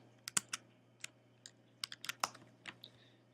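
Someone types on a computer keyboard while cutting and pasting code, giving scattered, crisp key clicks in short irregular bursts, close and fairly quiet, with no talking.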